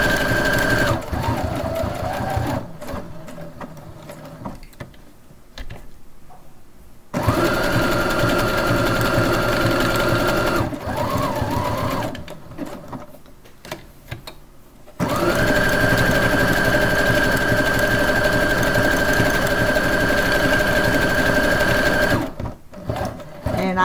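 Sewing machine stitching a quilt block, loud close bursts of rapid steady stitching broken by short pauses, with a voice speaking in the quiet gaps.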